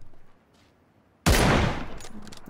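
Loud burst of gunfire erupts midway through a video game match, a sudden broadband blast followed by rapid, sustained rattling shots that trail off into scattered reports.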